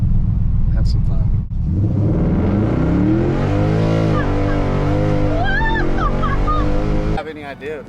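A loud Coyote V8 engine in a custom 1955 Ford F100 pickup rumbles and climbs in pitch as the truck accelerates, with people talking and exclaiming over it before it cuts off.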